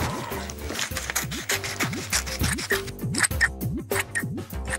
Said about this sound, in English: And then cut these out, but be careful because scissors are sharp.